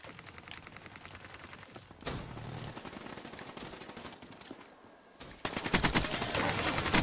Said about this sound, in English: Yeah, it's that AK-like gun.